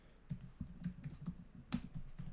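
A computer keyboard gives quiet, irregular typing, a dozen or so soft key clicks up close with a louder tap near the end.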